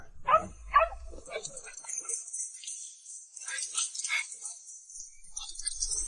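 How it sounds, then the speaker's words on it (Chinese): A small dog gives two quick, close whimpering yips at the start, then fades as people talk over a faint high hiss. "这谁家小狗啊，这么可爱？"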